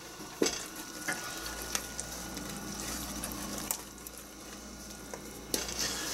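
Sugar is stirred into boiling strawberry-rhubarb jam in a pot, a steady sizzling bubble under continuous scraping, with a few sharp spoon knocks against the pan.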